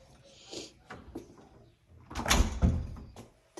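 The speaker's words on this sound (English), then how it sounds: "This is a metal door for the front door." A metal front door is shifted and handled, with soft scrapes and a louder clattering thump near the middle, then a sharp knock at the end.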